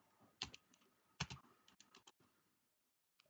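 Password keys tapped on a computer keyboard: a few quiet clusters of close clicks, then a pause and one last keystroke.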